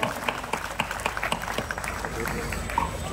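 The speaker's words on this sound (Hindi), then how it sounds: "और जोरदार तालियों के साथ एक बार फिर से उनका हम सम्मान" An audience claps at an award ceremony honouring a guest at the Deshaj cultural event, moderate, steady applause running under a speaking voice, a little fuller near the end.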